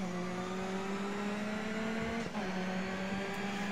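Ford Focus race car in Grid Autosport, its engine holding a steady, loud drone with a brief dip and shift in pitch midway, like a gear change, and no talking over it.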